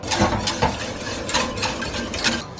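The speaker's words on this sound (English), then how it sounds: "I'm gonna add some xanthan gum and stir it in there, and that'll thicken it up" A utensil stirs xanthan gum into a bowl of homemade eggnog, with repeated scraping and clinking strokes against the bowl's sides, close and moderately loud.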